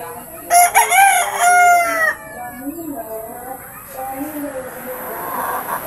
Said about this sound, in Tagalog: Yan yung manok laboyo natin